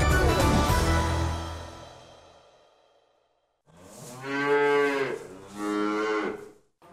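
Cows in a cowshed in Russia's Kavernino district give two long, deep moos close by, one after another, following a loud noise that fades into a brief silence.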